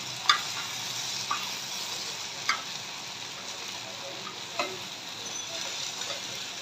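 Magur catfish pieces fry in mustard oil in a frying pan with a steady, close sizzle. Occasional sharp clicks of a utensil against the pan punctuate the even crackle.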